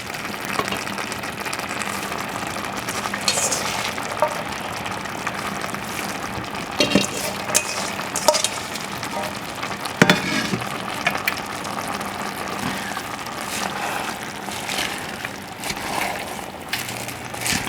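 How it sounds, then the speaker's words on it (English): Napa cabbage stir-fried in a pan, a steady close sizzle with repeated scraping and tossing as the leaves are turned over, no talking. "the way you mix it, try to put in the new cabbage under if you can, and bring out the one in the bottom"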